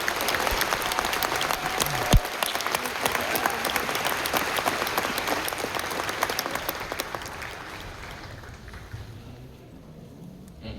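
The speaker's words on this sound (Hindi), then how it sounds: "जोरदार तालियों से स्वागत कीजिए" Loud, sustained clapping from an audience at a gathering, dense and continuous at first, then gradually thinning and fading toward the end.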